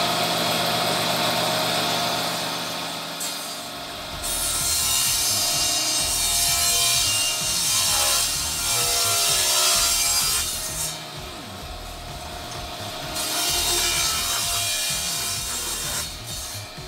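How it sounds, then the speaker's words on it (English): A saw blade rips lengthwise through a wooden plank, starting after a few seconds of motor hum, then a loud, sustained cutting whine that dips briefly mid-cut and picks back up. "Let's say just over the 4 1/2 mark, and we'll rip on through it."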